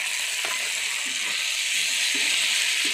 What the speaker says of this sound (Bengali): ভালো করে এটাকে ভেজে নিই।